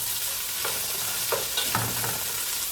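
Onion and celery frying in olive oil in a pot for lentil soup, a continuous loud sizzle with a few short stirring scrapes, close up and with no speech.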